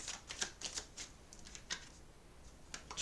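Tarot cards are shuffled and drawn in quick bursts of riffling, soft flicks and slaps, close and fairly quiet, with brief pauses between flurries and no talk.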